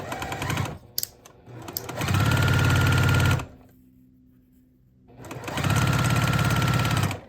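Sewing machine stitching quilt block fabric pieces together in two long steady bursts of loud mechanical whirring, with a brief start-and-stop at the beginning and a quiet gap between runs.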